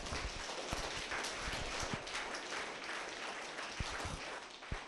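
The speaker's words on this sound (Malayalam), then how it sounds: "ഒന്ന് കൈ ഉയർത്തി കൈയടിച്ചേ" A church congregation claps hands together, producing a dense, continuous patter of claps with a few sharper accents, heard at moderate distance.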